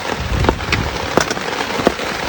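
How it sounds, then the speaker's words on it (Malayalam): Heavy rain pours down in a steady, loud, dense roar close by, with occasional sharper drop impacts on a surface and no voices. "ഭയങ്കര മഴയാണ്."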